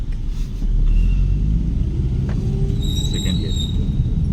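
A car accelerating during a driving lesson, a steady engine rumble that swells and holds, close and fairly loud, with faint tire or brake squeals and an instructor's voice briefly over it.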